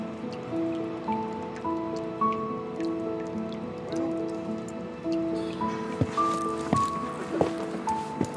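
Rain falls outdoors with scattered drips and splashes against a background of steady tonal hum, and sharper drops land close by toward the end.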